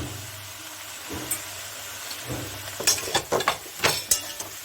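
Eggplant frying in a pan with cumin, coriander and turmeric powder, a steady soft sizzle broken by several sharp scraping stirs and utensil clinks toward the end.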